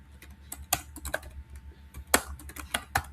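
Keys tapped on a computer keyboard while writing an HTML form: irregular clusters of sharp, close clicks with brief pauses between bursts, steady low hum beneath, no voices.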